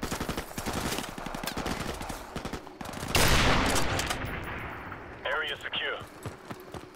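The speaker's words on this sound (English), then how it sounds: "they didn't hear the loud gunshots" Rapid automatic gunfire in the PC game Call of Duty: Modern Warfare Remastered, dense loud bursts of shots followed by a blast-like swell, with a voice briefly talking near the end.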